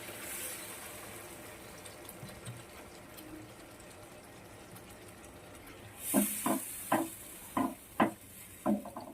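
Water poured into a simmering chitol fish curry, a quiet bubbling sizzle followed by a rush of liquid and a series of clinking stirring taps.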